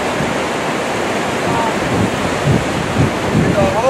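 Grand Falls on the Little Colorado River in Arizona roars with a steady, loud rush of water throughout. Wind buffets the microphone, and a faint voice sits under the noise.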